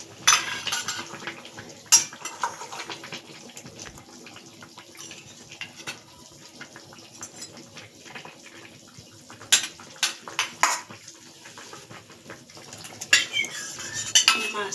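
Fish pieces dropped into boiling vegetables in a pot, with sharp clinks of utensils against the pot and soft bubbling and stirring at a moderate distance, no voices.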